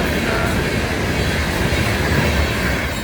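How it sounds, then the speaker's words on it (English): A red, white and blue locomotive honoring veterans rolls past close by, a loud continuous rumble and wheel rattle with no horn and no other sounds. "Here's that train we just filmed"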